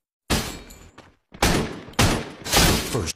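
Bursts of gunfire from the Free Fire battle royale game: several loud, close volleys of rapid shots separated by brief gaps, with no talking.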